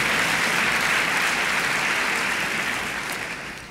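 A large audience at a book awards ceremony applauds steadily, a dense wash of clapping that holds strong before tapering off toward the end.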